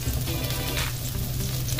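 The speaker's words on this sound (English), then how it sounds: "So gigisa lang natin siya" Pechay with misua being sautéed in a pan, a steady close sizzle and hiss of frying running continuously without pause.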